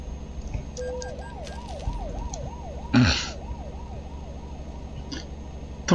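A police siren from the truck-driving game Euro Truck Simulator 2 wails in a rapid rising-and-falling pattern at moderate distance over low engine rumble, with a brief louder thump midway.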